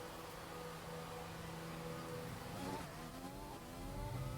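Formula 1 car engines in F1 2020 drone steadily at close range, a race car passing alongside with a rising whine near the end, under a continuous mix of engine noise.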